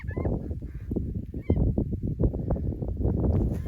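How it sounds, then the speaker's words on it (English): A bird calls repeatedly from overhead near a crop field, a rapid series of harsh, honking notes in an irregular rhythm, fairly close and clear against an otherwise quiet outdoor background. "Got a bird up there bugging me."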